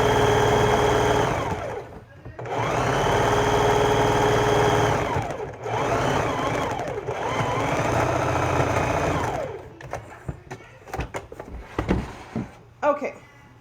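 A sewing machine hums in a few sustained runs while hemming the bottom of an old skirt being turned into a laundry bag, close and steady with short pauses, then gives way to handling clatter and talk.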